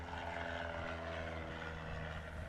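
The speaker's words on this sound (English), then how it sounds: "Really nice takeoff there" A propeller airplane taking off from Ontario Municipal Airport during STOL competition practice, a steady droning engine and propeller roar at moderate distance.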